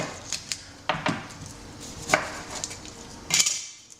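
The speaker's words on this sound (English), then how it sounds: "you can just cut it in half. Cut the ends off, hold your knife down." A knife cuts through an onion on a chopping board, giving a few sharp, irregular taps and thuds close by, with quiet gaps between the strikes and no talking.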